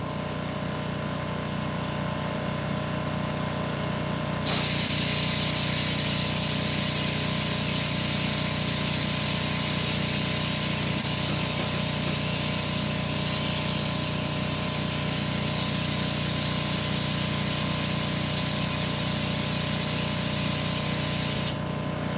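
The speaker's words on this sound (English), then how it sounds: "it's not pulling the siphon, so I'll just turn on the compressed air" Compressed air is switched on to push viscous oil made from plastic through a siphon, making a loud, steady hiss over a background machine hum that lasts about seventeen seconds before stopping abruptly.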